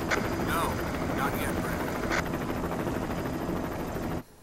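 Helicopter rotor noise from Resident Evil HD Remaster: a steady, fairly close drone with faint chopping pulses that runs under voices, then cuts off abruptly near the end.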